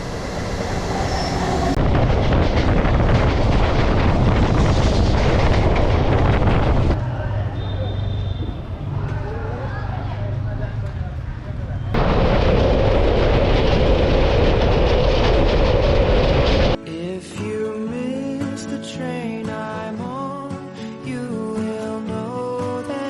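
A local train arrives on the line between Kolkata and Purulia, with a loud, steady rumble of wagons and wheels that builds over several seconds before the sound abruptly gives way to music.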